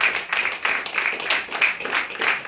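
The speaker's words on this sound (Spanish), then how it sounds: "¿Por qué no le damos un aplauso al Señor?" A church congregation claps in a quick, rhythmic pattern, with bright, evenly spaced bursts of hand claps carrying through the room for a couple of seconds.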